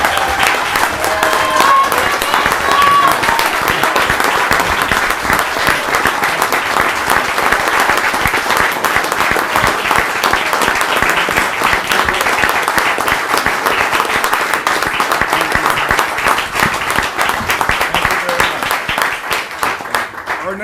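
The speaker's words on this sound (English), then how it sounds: "Let's give Bishop Tindall one more round of applause." A roomful of people in a legislative chamber applauds Bishop Tindall, a loud, dense, unbroken round of clapping lasting about twenty seconds with a few voices faintly mixed in.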